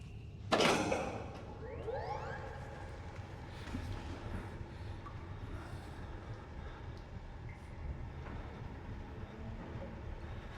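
A door in a horror-style video game swings shut with a loud thud and a creaking slide, followed by quiet room ambience with faint rumbling.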